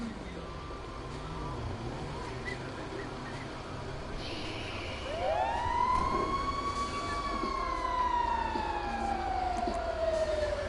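Fire engine siren at an emergency scene with two engines present, rising in from about five seconds and sweeping in a long slow wail over steady background rumble, moderately close and loud.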